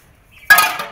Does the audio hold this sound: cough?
no